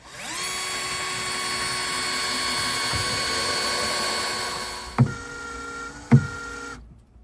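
A power drill whines steadily at high speed for about five seconds, then stops, followed by two short bursts of the motor spinning up.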